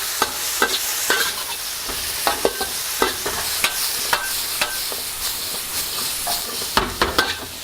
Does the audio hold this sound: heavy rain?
no